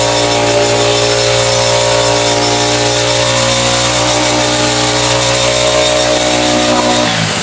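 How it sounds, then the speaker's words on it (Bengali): A pull-started paddy harvesting machine engine runs loud and steady with a high, buzzing two-stroke drone close by, then cuts off abruptly at the end. "একটা টান দিলেই ধান কাটার মেশিন স্টার্ট নিয়ে নিবে ভাই।"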